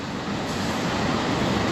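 Nearby, a long freight train grinds through a German station with a constant heavy rumble and rolling wheel noise, unbroken throughout.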